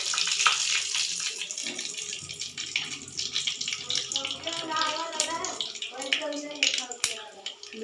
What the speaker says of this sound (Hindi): ये सरसों जो है इसमें हम डालेंगे थोड़ा सा आराम से, क्योंकि तड़कता बहुत ज़्यादा है।